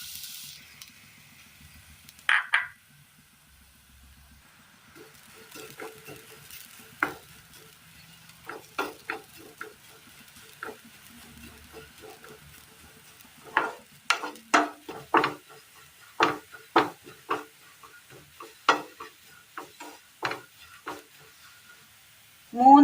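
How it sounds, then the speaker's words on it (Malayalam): Crushed coconut stirred in a pan on the stove for a homestyle Kerala curry, with a series of scraping, clattering stirring strokes that grow busier toward the end over a faint low sizzle, no voices. "അടുപ്പത്ത് പാൻ വെച്ച് കൊടുത്ത് നമുക്ക് തേങ്ങ ഇട്ട് കൊടുക്കാം."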